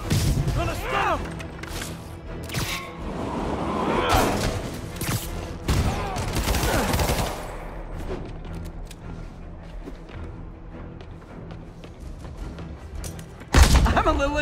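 Gunfire and impacts in Marvel's Spider-Man Remastered, scattered shots and thuds mixed with shouting game characters, busy in the first half, then quieter before a final sharp hit.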